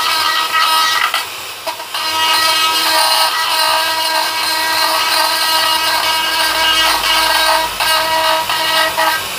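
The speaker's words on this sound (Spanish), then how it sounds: "Estoy utilizando la misma broca para limpiar por encima también." Drill bit cleaning the surface of dead wild olive wood, a loud, close, high-pitched rotary grinding whine that runs steadily with brief dips.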